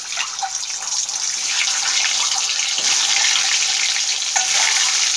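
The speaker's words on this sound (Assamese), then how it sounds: "এতিয়া কণীখিনি ভাজি ল'ম" Eggs fry in hot oil seasoned with salt and turmeric, giving a steady, loud hiss and crackle that holds nearly unchanged, with a faint clink or two and no talking.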